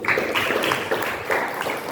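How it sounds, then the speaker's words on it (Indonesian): A burst of group clapping in a classroom lesson, fairly steady and moderately loud, rising and falling in waves for a couple of seconds. "Tepuk tangan bagi dia dulu."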